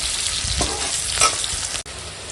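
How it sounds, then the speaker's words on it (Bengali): Onion fries lightly in hot oil with a bay leaf, a dense continuous sizzle with a couple of soft stirring scrapes before a brief dip. "আর পেঁয়াজটা একটু ভেজে নেবো, আর একটু হালকা ভাজবো।"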